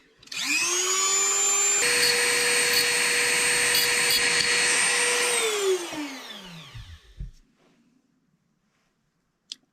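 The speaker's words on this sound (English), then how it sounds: "I'm going to be using my Dremel in order to make the ends a little bit less sharp." A Dremel rotary tool spins up with a high whine and grinds the sharp ends of wire for a nose clip, holding a loud steady tone for several seconds before winding down and stopping, with no talking.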